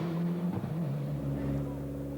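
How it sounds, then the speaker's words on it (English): A 1994 rally car with a turbo pressure-maintaining system on overrun into corners, an engine note that drops in pitch into a steady droning rumble, heard close and fairly loud. "driving with the new Packwell system for maintaining turbo pressure, and you can hear that very clearly as they move on to overrun into the corners"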